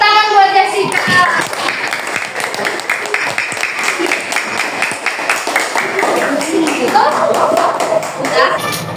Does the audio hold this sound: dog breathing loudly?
no